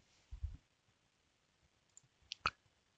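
A faint computer mouse click, sharp and single, heard while working in engineering software, set in a quiet room with low rustling before it and no talk.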